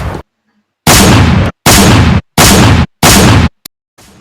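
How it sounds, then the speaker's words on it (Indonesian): Four heavy gunshot bursts from a drama sound effect, each a loud roaring blast lasting about half a second, fired in steady succession with short silent gaps between them. "Ngeri tuh suara tembakan."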